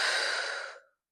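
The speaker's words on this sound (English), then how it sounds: "Inhale. And exhale." A single long, breathy exhale during a yoga flow, close and clear, trailing off to silence after just under a second.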